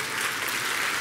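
Steady, dense applause from a large audience at a talk, a continuous wash of many hands clapping evenly for a second with no break.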